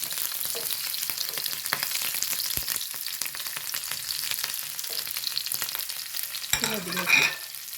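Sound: green chillies frying in oil

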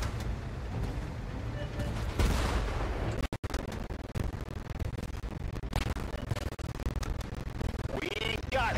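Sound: gunfire and artillery in World War tank video game

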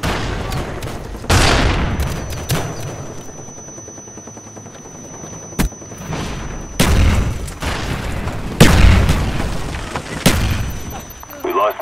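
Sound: SAM turret delivery and firing in a Call of Duty video game

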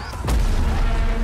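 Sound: explosions in a video game trailer

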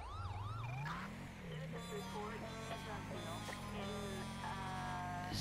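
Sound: custom police car siren in GTA video game

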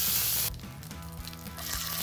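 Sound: salmon fillet sizzling in a frying pan

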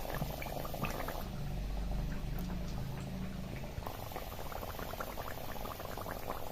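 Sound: potato fritters frying in hot oil

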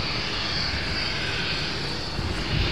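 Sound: Boeing 747 taking off at Amsterdam Schiphol

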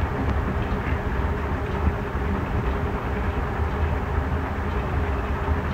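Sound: railway track-cleaning train passing

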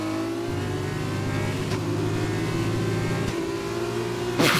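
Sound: F1 2020 video game race car engine revving

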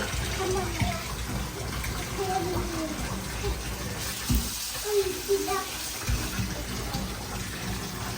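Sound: bath water running from tap

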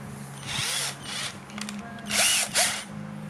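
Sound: tightening a nut while assembling a servo mount

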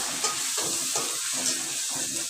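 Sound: frying onion, garlic, ginger and tomato masala

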